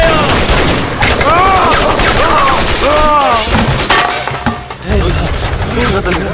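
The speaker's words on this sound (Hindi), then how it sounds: "ये गोली की आवाज।" Loud, dense bursts of gunfire and impacts from a movie battle scene in The Kashmir Files, rapid crackling shots continuing throughout with shouted voices mixed in.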